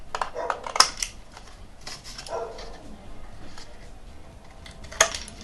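Scissors snip a drawn figure out of paper for a sketchbook, a few sharp close cuts scattered among light handling noises and rustles, with a brief voice in the middle.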